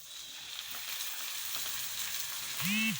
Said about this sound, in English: We will add tomato puree to it